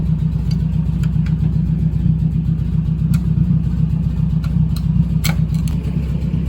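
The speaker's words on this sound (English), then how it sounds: "This thing was starting very not so great the other day because it was really cold. Let's give it some throttle." Steady low engine drone of a snow removal machine on a very cold day, running continuously and loud with the throttle opened, a close rumbling idle that rises slightly without sharp revs.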